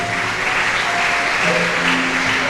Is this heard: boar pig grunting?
no